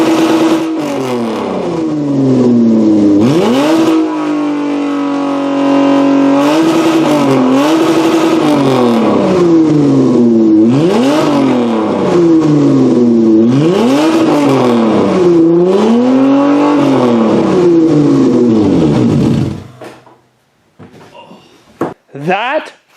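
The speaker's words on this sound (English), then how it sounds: "we're just going to do the old-fashioned cold start and a nice big rev and start" A Toyota Camry V6 engine cold-starts and revs loudly in repeated rising and falling surges, near and rough, then cuts off into quieter rattles.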